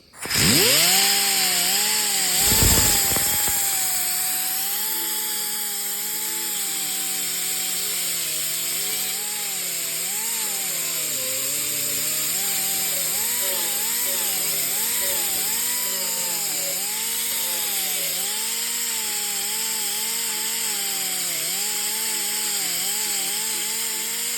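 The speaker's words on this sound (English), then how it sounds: "now the 80 grit grinder work is done" Grinder fitted with an 80 grit disc working rusty steel on the cowl post of a 1928 Ford Model A coupe, a loud, steady motor whine with a grinding rasp that runs nonstop, its pitch wavering as the load shifts.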